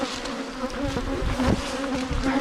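Honey bees swarm around a group of seven hives at a mountain apiary on Madeira Island, a steady, dense buzzing of many insects close by, continuous and alone without any voices.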